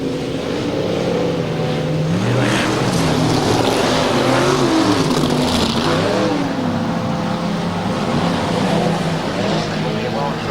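Super modified speedway race cars with big Chevy engines roar together at the start of a 1999 race, loud continuous engine drone with rising and falling revs throughout, with a commentator talking over it.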